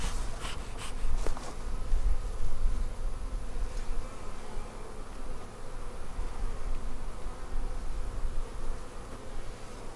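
Honeybees buzz steadily throughout as a colony is transferred into new hive boxes in a bee yard, a dense, continuous droning swarm close by, with a few brief louder passes near the start and no talking.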